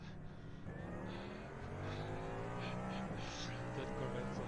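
A Corvette race car in a racing sim video game at Sebring roars past with rising engine harmonics and a brief tire squeal, steady and fairly close, with a voice talking over it.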